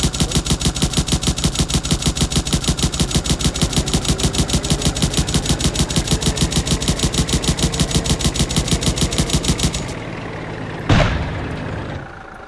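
Rapid, steady automatic gunfire from a turret in an Unreal Engine 5 game, loud and continuous for about ten seconds before it cuts off, followed by a single sharp impact and a fading hum.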